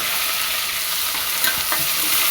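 Onions fry with curry leaves and spices in a pan, a dense, loud, close sizzle with a few stirring scrapes over a couple of seconds and no speech.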